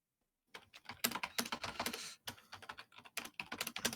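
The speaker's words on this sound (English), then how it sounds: "vigorous typing" Fast, vigorous typing on a computer keyboard, close and crisp, with dense bursts of keystrokes after a brief silent start and a short pause midway.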